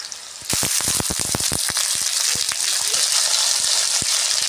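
Peas and potatoes drop into a pan of hot oil with onions and chillies, setting off a sudden loud, close sizzle that keeps crackling and popping with sharp bursts throughout.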